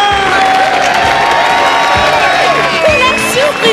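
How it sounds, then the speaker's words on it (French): A loud crowd of children cheers, shouts and applauds for the winners of a medal contest. The noise is dense and continuous, with high whoops and yells on top throughout. "Et on les applaudit bien fort."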